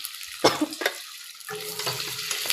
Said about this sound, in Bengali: কাঁচা ছোলা দিয়ে দিলাম